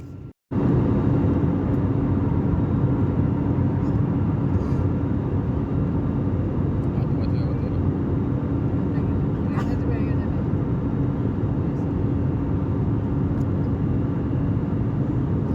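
Inside an airplane cabin in flight, a loud, steady engine drone and rumble fills the space without letting up.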